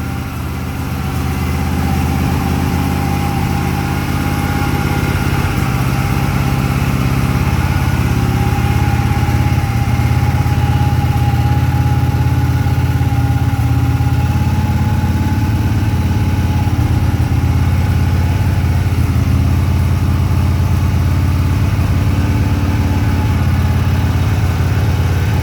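A 1982 Harley-Davidson FLHP motorcycle engine idles steadily after a cold start, a loud, close, continuous throb that holds an even rhythm throughout.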